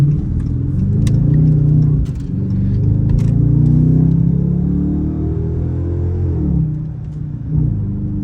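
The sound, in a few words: 2022 Dodge Charger RT V8 engine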